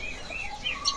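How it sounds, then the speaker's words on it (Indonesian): Common iora, known locally as cucak combo, giving quick bright chirps and short whistled calls at a bird dealer's stall, several high tweets scattered across a second with no talk. "Nih yang sebelah sini nih udah pada bunyi cak cak cak cak gitu."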